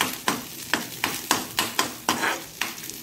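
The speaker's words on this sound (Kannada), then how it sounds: "ತೆಂಗಿನ ತುರಿ ಸ್ವಲ್ಪ ಫ್ರೈ ಆಗಬೇಕು ಅದರಲ್ಲಿ" Grated coconut sizzles and crackles in hot tempering oil while a spoon stirs it in steady, regular scrapes, about three per second, close by.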